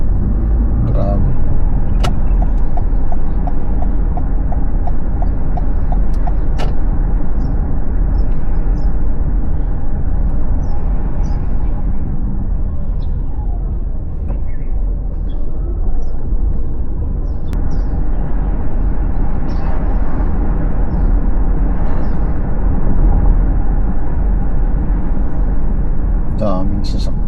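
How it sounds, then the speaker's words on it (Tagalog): Busy road traffic rumbles continuously near a beach area, many vehicles passing close by in a steady loud wash with occasional hisses, while people talk nearby. "Daming sasakyan."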